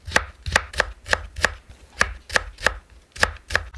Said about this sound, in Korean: 당근 4분의 1개를 작은 크기로 준비합니다.